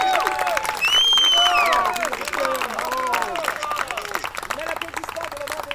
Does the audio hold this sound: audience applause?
yes